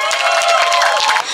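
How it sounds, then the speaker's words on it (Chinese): A crowd at a Kaohsiung pride rally breaks into a short burst of loud, close applause mixed with cheering. "掌声欢迎"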